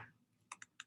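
A few quick, crisp key taps on a computer keyboard while typing into a chat box, close and quiet, following a brief murmur.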